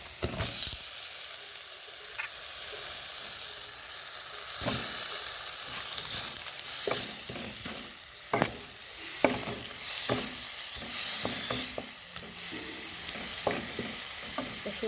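A tomato and spice masala sautéing in a pan for a Bengali tengra fish curry sizzles softly and steadily, broken by repeated scraping stirs of a spoon against the pan.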